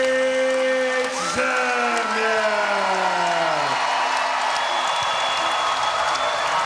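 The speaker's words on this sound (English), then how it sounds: "A standing ovation by the crowd here" Standing ovation at a 2011 Hawai'i Warrior men's volleyball match against USC: a packed arena's sustained roar of applause and cheering that fills the whole stretch, while an announcer's voice and a long sliding horn-like tone sit on top.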